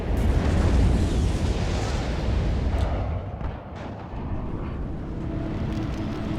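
A Chaparral anti-air vehicle is destroyed in the video game WARNO, giving a loud, rumbling explosion that booms at once and then decays into a long crackling roar with scattered distant bangs.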